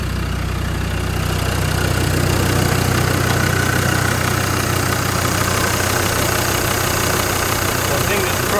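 A Land Rover Discovery 2 engine runs steadily up close, a constant low rumble with mechanical clatter and a faint rattle throughout, with no clear rev swells, alone without talk.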